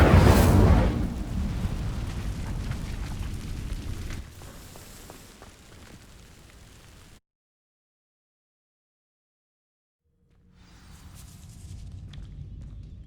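An Incendio fire spell in Hogwarts Legacy sets dry vines alight with a loud whooshing burst that settles into a steady crackling roar, fades to silence, then returns as a softer rumble.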